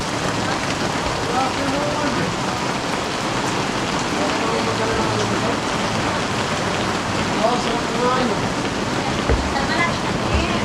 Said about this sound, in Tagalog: So we're finally in Baligubat, pero malakas yung ulan.